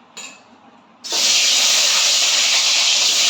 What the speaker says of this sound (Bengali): আমি একটু তেল দিয়ে ডিমগুলোকে ভেজে নেবো। ডিমগুলো ছেড়ে দেবো।